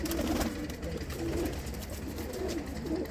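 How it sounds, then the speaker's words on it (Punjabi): Low, throaty cooing from a red Galar-breed pigeon comes in a few repeated phrases over a steady background hum, moderately close. "ਬਹੁਤ ਚੰਗਾ ਕਬੂਤਰ ਆ"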